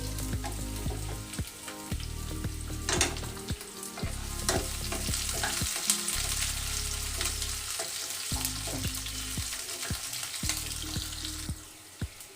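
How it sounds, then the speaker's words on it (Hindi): Onions and green chillies sizzle steadily in a hot pan for a party-style tomato chutney, with a constant loud frying hiss broken by the scrape and clatter of a spoon stirring, and no voices. "अब मैं इसमें प्याज और मिर्ची डालूंगा। इसको अच्छी तरह से मिक्स कर लेंगे।"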